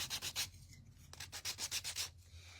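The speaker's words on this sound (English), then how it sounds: "I'm going to sand these little edges here." Hand sanding along the edges of small wooden gingerbread pieces: quick rhythmic back-and-forth scrubbing strokes, close and fairly faint, in bursts with short pauses.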